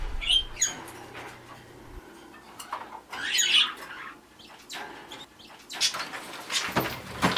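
Pet birds in cages in an indoor bird room squawk and chirp in scattered bursts, with occasional rustling and wing flutters, moderately close and irregular, no speech.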